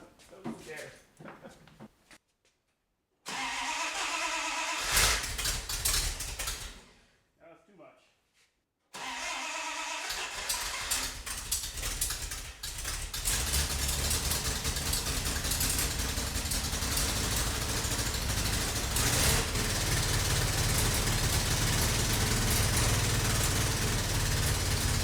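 A car engine on a Mad Max style pursuit vehicle cranks in short bursts, then catches and settles into a loud, rough, uneven idle that keeps running, with a person talking over it.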